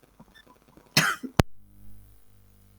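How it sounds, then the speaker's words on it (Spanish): A short, harsh cough bursts out, followed by a sharp second one, then a low hum lingers in the background. "tengo el ataque de tos fuertísimo"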